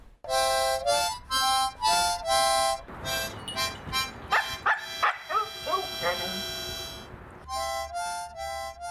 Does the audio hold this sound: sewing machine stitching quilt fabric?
no